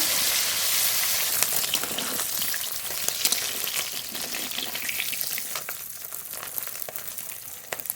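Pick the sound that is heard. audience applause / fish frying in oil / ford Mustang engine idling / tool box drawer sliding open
fish frying in oil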